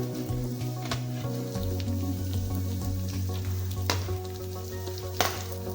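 Capsicum hits hot oil in a pan for boneless chilli chicken, after onion and ginger-garlic paste, giving a steady close sizzle with a few sharp crackles and stirring scrapes, no talking.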